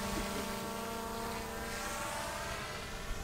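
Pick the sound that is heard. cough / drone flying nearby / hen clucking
drone flying nearby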